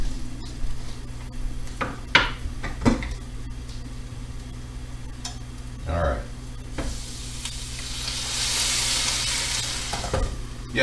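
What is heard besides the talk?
sizzling in a small pan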